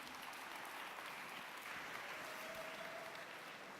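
An audience at a tech conference talk applauds a film director, a steady wash of many hands clapping that sounds faint and somewhat distant and continues evenly without pause.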